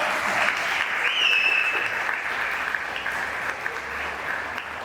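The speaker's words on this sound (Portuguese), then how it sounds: "Dá um aplauso a Jesus nessa noite." A church congregation applauding during an evening service, dense sustained clapping from a crowd filling the room and continuing steadily for several seconds, with a brief vocal tone rising over it.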